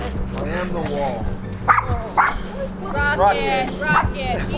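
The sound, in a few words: puppies barking and whimpering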